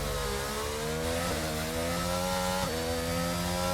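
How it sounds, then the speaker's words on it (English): A racing car engine from a racing video game, driven in wet conditions at Canada, revs loudly and steadily with harmonic whine, the pitch climbing and then dropping sharply at two upshifts, no talk over it. "Upshifting quite early just so he doesn't get too many revs off these wet conditions"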